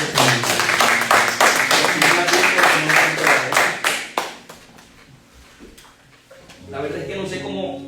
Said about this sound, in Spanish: Podemos dar un fuerte aplauso